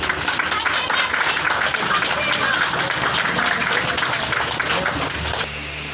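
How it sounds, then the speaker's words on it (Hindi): A crowd claps together at an outdoor protest against a quarantine centre in Raniganj and Jamuria, with steady applause running for about five seconds under a talking voice, then stopping abruptly. "ताली बजाओ।"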